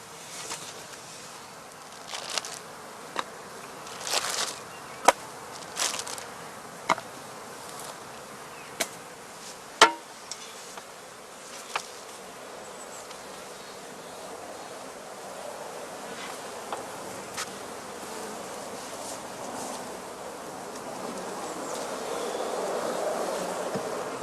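Honeybees buzzing around heather skep hives in a spring apiary, a faint continuous hum with occasional louder passes as individual bees fly close by the microphone.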